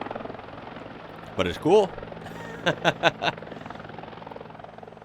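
A helicopter in Australian emergency footage churns as a steady, low rotor drone under the whole stretch. Someone speaks briefly over it.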